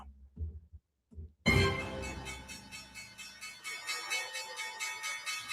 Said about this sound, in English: That was the closing bell on Wall Street